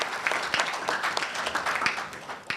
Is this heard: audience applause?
yes